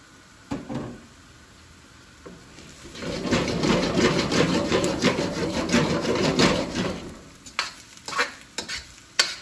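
Corn and vegetables, among them onion, hit a hot pan for a steak stir-fry and sizzle, with a sustained burst of frying and stirring in the middle, framed by sharp scrapes and taps of a utensil.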